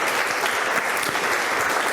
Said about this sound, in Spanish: Vamos a darle un aplauso a nuestro Dios